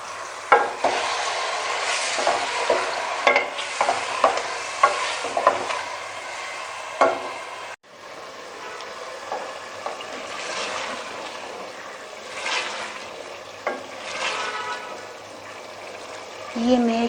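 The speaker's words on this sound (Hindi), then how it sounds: "ये मैं कीमा भून रही हूँ।" Minced meat (qeema) sizzles in a pan with freshly ground masala while a spoon stirs and scrapes in repeated strokes, close and loud, with a brief break midway; someone talks briefly.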